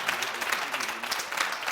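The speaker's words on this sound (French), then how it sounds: "Applaudissements pour lui." Studio audience applauding on a French-language TV variety show, lively clapping with irregular bursts that holds at a steady level throughout.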